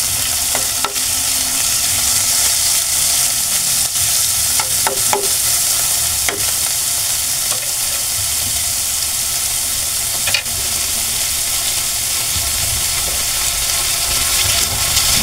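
Ground pork sizzles loudly while it is stir-fried with bitter gourd. A constant frying hiss runs throughout, with occasional clicks from the spatula or pan, and no talking.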